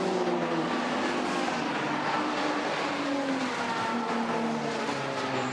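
A BMW race car, AS Racing Team number 87, at the DeWALT Grand Prix 2021 race holds a loud, sustained engine roar with a steady droning tone throughout, with no talking.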